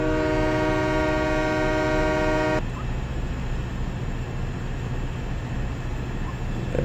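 A freight train's horn in Farming Simulator 17 blares as a loud, steady multi-tone chord for under three seconds, then cuts off, leaving a rumbling engine and rolling rail noise underneath.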